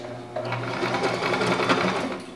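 A sewing machine runs continuously, back stitching at the start of a seam on a homemade pillow, a steady close whirring and rapid needle chatter throughout with no pauses.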